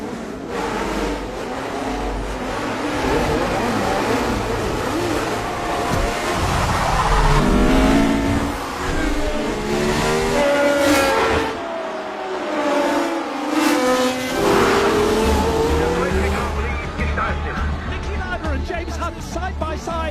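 Formula One race cars roar off the grid at the start of the German Grand Prix, engines revving hard and loud with rising pitch sweeps, under excited commentary.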